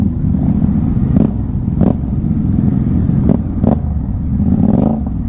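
A motorcycle engine drones steadily on a group ride near Nashik, close and loud, with a few brief clattering bursts breaking through the hum.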